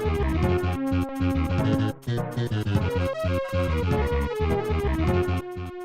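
Dense, loud SNES game music from Oscar, a 1996 Amiga port, runs nonstop with a thumping pulse, layered melodic lines and bass parts that fall out of step, briefly dipping near the two-second mark.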